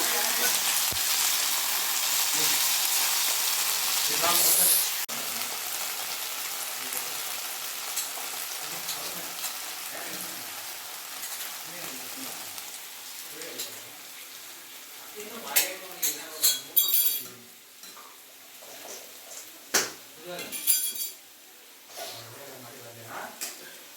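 Gobi manchurian of cauliflower being tossed with soy sauce in a large pan, a steady frying sizzle giving way to scraping stirs and clinking of a spatula against the pan, with a voice talking over parts of it.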